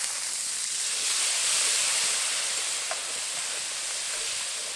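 Water splashed into hot spiced masala of salt, turmeric, cumin, coriander and Kashmiri chilli powders, frying in a pan for bhoger khichuri, gives a steady close broadband hiss and sizzle that holds evenly throughout without voices.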